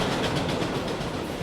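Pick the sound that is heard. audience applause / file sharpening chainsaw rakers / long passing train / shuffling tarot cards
long passing train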